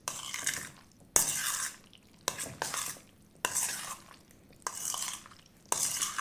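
Russian salad being mixed in a bowl, a series of wet, squelching stirring strokes with sharp utensil knocks against the bowl, repeating in an uneven rhythm up close.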